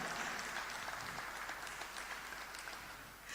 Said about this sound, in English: we invite you to give her a round of applause